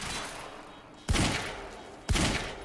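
Gunfire in the video game Quantum Break: two loud, sharp bursts about a second apart, each a heavy broadband crack with a low thump that trails off, over a steady background hum.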